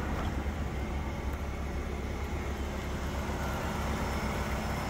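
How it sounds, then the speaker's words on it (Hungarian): A 2007 Ford Focus estate with a 2.0-litre 145 hp petrol engine idles steadily nearby, a smooth low rumble with a faint air-conditioning hiss on top and no talking. "és tök szépen jár a motor, halljátok?"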